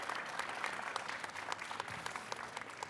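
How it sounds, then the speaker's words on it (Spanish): Audience applause at a book festival presentation for author Andrea Chapela, a steady wash of many hands clapping at moderate distance, fairly quiet and continuous with no voices over it. "Un aplauso, por favor"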